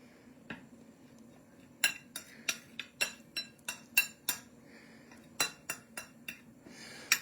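A utensil clinks rhythmically against a bowl while salt, Italian seasoning and almond flour are mixed for chicken schnitzel. After a quiet start, a dozen or so crisp, close taps come in a steady beat with no talking.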